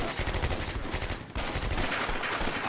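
Machine gun fire in the WWII wargame Combat Mission Beyond Overlord, loud sustained rapid bursts with a brief gap midway before the firing resumes, alone with no talk.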